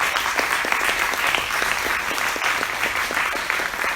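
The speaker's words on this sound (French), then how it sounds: "Je vous demande d'applaudir Paul pour cette présentation." An audience applauds a presentation at a tribute event for Michael Lonsdale, a steady, full round of many hands clapping together that stays even throughout, without speech.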